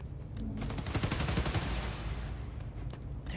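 Rapid bursts of gunfire blaze through a mission in the video game Spider-Man Miles Morales, sustained and rattling for a few seconds with no one talking.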